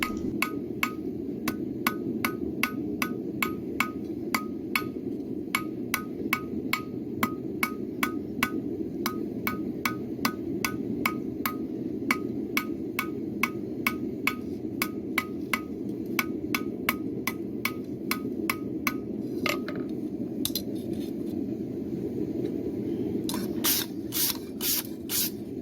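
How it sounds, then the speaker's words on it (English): A hammer strikes a forged steel feather quill on an anvil in a fast, steady series of sharp metallic rings, continuing for most of the stretch over a loud background roar, then pausing before a few final blows. "And now back to the anvil, just to clean up that quill a little bit."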